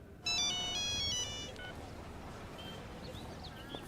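A mobile phone ringtone for an incoming call plays a short, bright melodic burst of repeated tones for about a second, then cuts off. Quiet room ambience follows.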